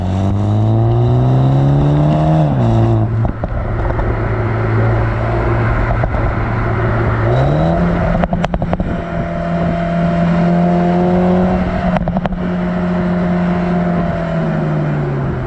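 A 2019 BMW Z4 four-cylinder engine revs up hard, pitch climbing through gears with brief dips at shifts, loud and close with no speech.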